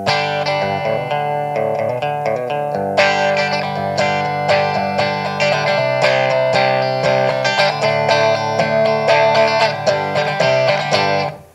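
Electric guitar on the bridge pickup runs through a Big Top Airborne Acoustic effect, giving a bright, metallic, dobro-like resonator tone; loud chords and picked notes ring continuously with no voices.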